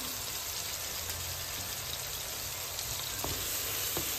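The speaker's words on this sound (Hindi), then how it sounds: "अब फिर भूने जाओ भूने जाओ भूने जाओ टमाटर जो हैं ये हमारे गलने वाले हो गए हैं" Chopped tomatoes and green chili fry in a pan, a steady close sizzle with a few faint stirring taps near the end, and no talking.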